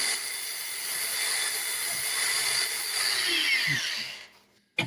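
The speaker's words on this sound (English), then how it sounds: "Get some raw angle grinder noise in the video." An angle grinder runs in a home metal shop while shaping a knife blank: a steady, high whining hiss held close and loud for about four seconds, then quickly spinning down to silence.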